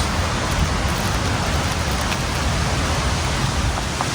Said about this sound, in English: it is getting ready to pour down rain